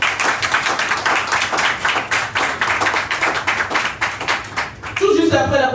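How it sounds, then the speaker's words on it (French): An audience claps in steady, dense applause, many hands close together, continuing throughout before a voice begins speaking near the end. "J'ai envie que vous les accueilliez avec un tonnerre d'applaudissements,"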